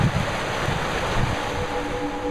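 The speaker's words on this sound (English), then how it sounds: "This is all draining into the pasture and then going back to the river." Floodwater from a flooding river rushes into a pasture, a steady broadband roar of flowing water with some low rumbling surges and a faint constant hum underneath.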